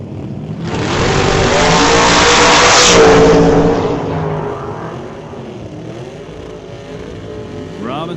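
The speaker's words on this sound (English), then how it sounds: "A little 1994 Beretta. And Brian Ritchie, his beautiful black 68 Chevelle" A 1994 Chevrolet Beretta and a black 1968 Chevelle launch off the line at a drag strip, a loud roaring engine swell that peaks and fades as they pull away, with an announcer's voice faintly underneath.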